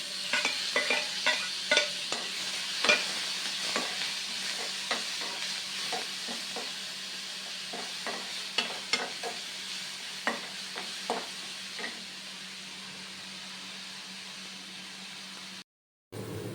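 Tomato pieces sizzle and fry in a pan while a utensil stirs them, giving a steady hiss broken by frequent scraping clicks, with a brief silent gap near the end.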